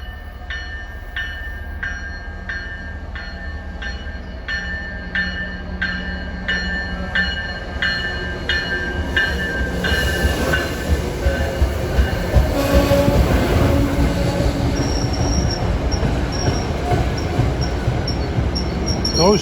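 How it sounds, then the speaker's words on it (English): A passenger train from Providence to Boston rumbles past close by, wheels clicking rhythmically over rail joints as the roar steadily builds and holds. "That was train 822 from Providence to Boston."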